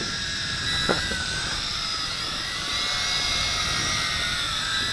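A Tarantula X6 quadcopter drone flies with a steady high-pitched whine from its motors and propellers, pitch shifting slightly as it maneuvers, with a brief click near the start.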